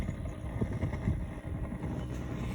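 Wind picking up outdoors, a steady low rumble with gusting buffets against the microphone, close and continuous, with no speech.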